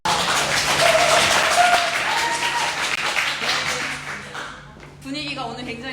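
Audience applause at a business presentation event in Mokpo, a loud, dense burst of clapping that gradually thins and fades, with voices rising at the very end.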